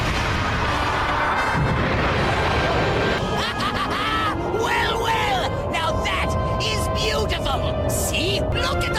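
Fireworks go off in the Galactic Pinball video game: a rising whistle sweeps upward while a flurry of crackling pops and bursts builds and keeps sputtering over a steady backdrop.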